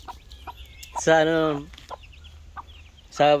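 Newly hatched chicks and a hen make clucking and short calls up close, with a loud harmonic call around the middle and another at the end, alone without talk.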